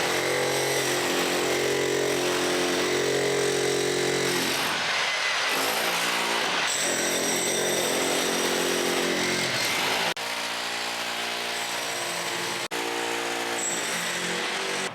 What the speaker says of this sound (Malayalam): ഇതാണ് നമ്മുടെ ജാക്ക്. അപ്പിനി വയറിങ്ങിൻ്റെ ആവശ്യത്തിന് വേണ്ടിയിട്ട് ഉപയോഗിക്കുന്ന ജാക്കാണ്.